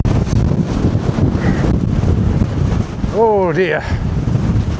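Strong wind buffets a microphone on a long countryside hike among rock formations, a constant loud roar throughout, with a person speaking briefly under it.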